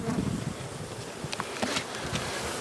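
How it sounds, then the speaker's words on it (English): Honey bees buzzing at a hive in a university apiary, a close, steady insect drone with a few louder bursts as individual bees pass near. "So we got bees filling the top box"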